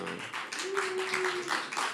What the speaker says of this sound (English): You know I'm going to ask for a better round of applause than that one.